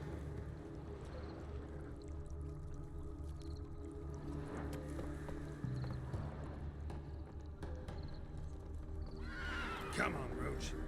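In the Witcher 3 video game, Geralt's horse Roach neighs and gallops, with a rhythmic clip-clop of hooves under the game's ambience and a sharp whinny near the end; someone talks over it.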